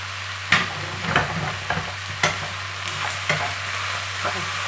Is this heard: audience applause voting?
no